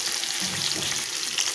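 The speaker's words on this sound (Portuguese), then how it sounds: "Meu peixe já está fritando, gente." Fish frying in a pan gives a dense, continuous sizzle and crackle, close and fairly loud, with no voices over it.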